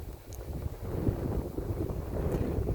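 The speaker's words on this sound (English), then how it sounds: "once you get out, yeah, you're blasted by the wind." Strong coastal wind at Carantec buffets the microphone in a loud, continuous low roar with gusty surges, close and unbroken throughout.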